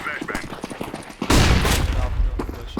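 Counter-Strike: Global Offensive gunfire on the Dust 2 map, a loud burst of close shots erupting midway and rumbling on under excited voices from players talking throughout.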